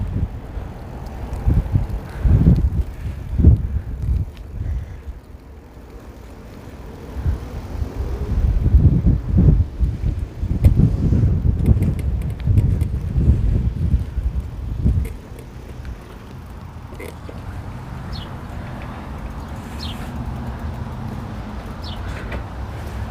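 Strong gusty wind buffets the microphone while a bicycle is ridden around Cheyenne, coming in heavy rumbling bursts that build and fade, then settling into a lighter steady rush with faint traffic in the background; no talking.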